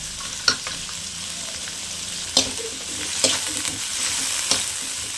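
Two big onions frying in a pan for Tamil-style egg curry, a steady bright sizzle broken by several sharp scrapes and taps of the stirring spoon, close up and with no one speaking.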